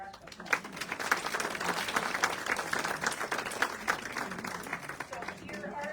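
Audience applause at a fall fashion show in Peoria, Illinois, a dense, steady wash of clapping that fills the whole stretch at moderate loudness, with some voices mixed in.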